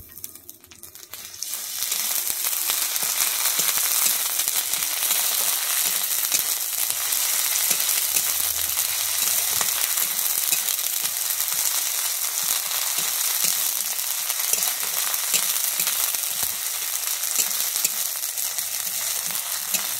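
Ginger and garlic paste sizzles and fries steadily in a pan for a Bengali prawn and yam curry, a loud, continuous close crackle that begins after a quiet second and holds for the rest.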